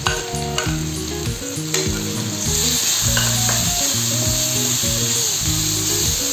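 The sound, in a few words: spices frying with jackfruit seeds and onion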